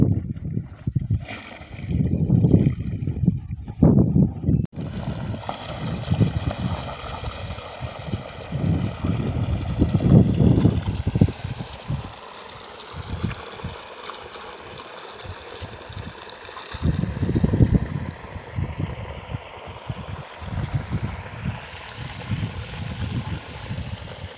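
Irrigation water rushes into a long bed in a farm field, a churning, gurgling flow with gusty wind buffeting the microphone, loud surges rising and falling without speech.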